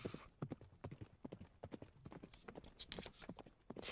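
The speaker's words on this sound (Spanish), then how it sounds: "Por gracia de Pugachov, yo era dueño de un buen caballo" Horse hooves clip-clop in a steady, rhythmic trotting beat that carries on throughout, fairly faint and with no clear talking over it.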